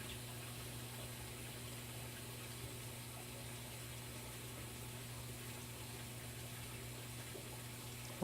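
Water flows steadily into a washing machine during a diagnostic fill test, a constant faint rushing hiss under a low steady hum, with no talk.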